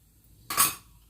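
Dissolved cornflour is poured into melted sugar on high heat for a beetroot pudding: one short, bright splashing hiss of about a third of a second, rising quickly then fading, with no talking.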